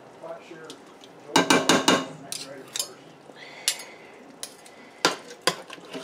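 A spoon scrapes and clanks against a pot as seasoning is stirred into chili, with several quick bursts of metallic clatter and softer stirring sounds in between, close and moderately loud.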